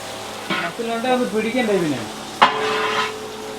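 A large pot holds one and a half kilos of shallots frying for a big batch of chicken curry, with a sizzle running under a person talking and a sharp clank partway through.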